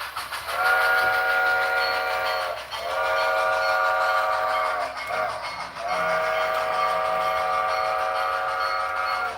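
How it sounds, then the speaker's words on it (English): A game train's whistle sounds in three long, loud harmonic blasts separated by brief gaps, with harsh clipping distortion smearing the tone and a low rumble running underneath; no one speaks. "Oh, I forgot this whistle has the horrible clipping sound."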